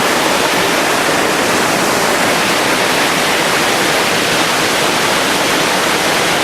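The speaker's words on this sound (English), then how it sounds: "That's the waterfall you can see." A waterfall at Crummock Water in the Lake District roars as a steady, loud, broadband wash of falling water, close and continuous throughout with no voices.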